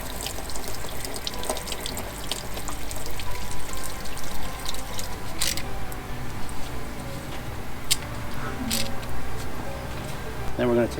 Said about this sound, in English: I'm going to relieve pressure. This will be hot water, so you got to be standing clear.